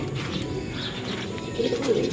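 A dove or pigeon coos softly in a low, repeated call, with faint chirps and outdoor background around it.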